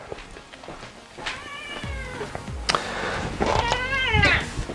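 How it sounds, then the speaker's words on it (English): A cat meows repeatedly to be let outside, several drawn-out, rising-and-falling cries indoors near the microphone, each one louder than the last, with no talking. "Cat wants to go out, by the way."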